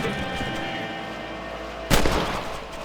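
A single sharp rifle shot from Red Dead Redemption, fired at rabbits on a ranch, cracks out near the end over a steady bed of game music and ambience.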